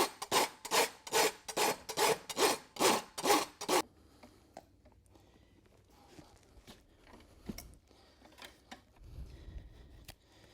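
A farrier's rasp bevels the rear hoof of a draft horse for shoeing, eight loud, rhythmic rasping strokes close by, then quieter scattered scrapes, shuffles and knocks.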